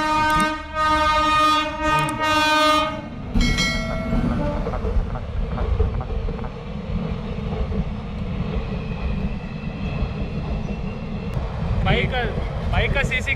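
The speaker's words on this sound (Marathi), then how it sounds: "ट्रेन येते, रुकिये." A train passes a railway crossing on a road with roadwork nearby, opening with loud horn blasts before a steady rumble of wagons rolls by up close, while people talk.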